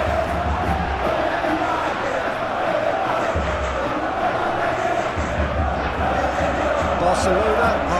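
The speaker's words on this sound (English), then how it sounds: "at least the crowd are appreciative of his efforts" Stadium crowd in the football game PES 21 during Atletico Madrid versus Barcelona, a loud, continuous roar of applause and cheering rising and falling, with a commentator's voice talking over it.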